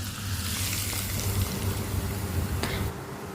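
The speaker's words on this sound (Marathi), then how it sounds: "आता हे जो तडका आपण बनवलेला आहे तो या कैरीवरती ओतून घेऊयात" Hot tempering oil with mustard seeds, asafoetida and crushed garlic pours onto chopped raw mango, giving a steady close sizzle and hiss that holds for about three seconds before fading.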